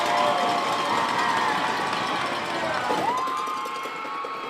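Crowd cheering and yelling at a hockey game in an arena, a broad sustained roar with a few whistle-like tones that fades slightly toward the end.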